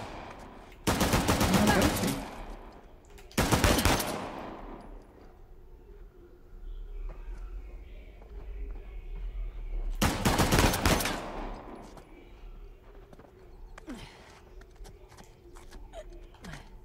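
Gunfire in the video game Uncharted: The Lost Legacy, with three loud bursts of rapid shots followed by quieter game sounds and faint pops.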